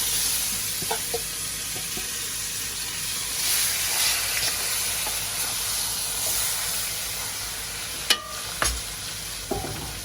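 Meat sizzles loudly and steadily in a hot pan, a constant frying hiss with a few sharp clinks from stirring.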